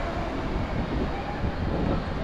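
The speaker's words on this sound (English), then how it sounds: "we need to go through to the shuttle train here" Gatwick airport shuttle train, three carriages, a loud steady rumble and rolling hum of the train running throughout, close by with no speech.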